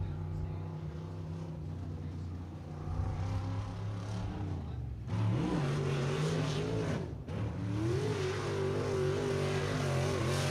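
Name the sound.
race car engine revving on track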